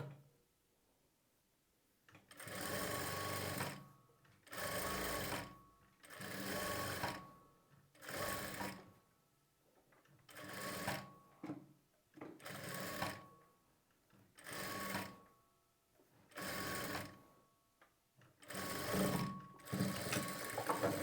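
Sewing machine stitching piping onto a blouse, running in about nine steady bursts of a couple of seconds each with short pauses between, close and alone with no talk.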